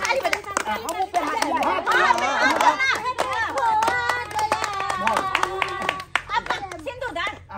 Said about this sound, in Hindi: ताली बजा ताली बजा